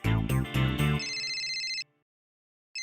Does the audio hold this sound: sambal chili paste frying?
no